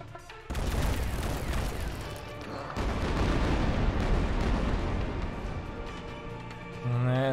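Loud, sustained rumbling blasts of explosions in the video game Supraland, filling the mix with dense booming noise that drops briefly and then roars back.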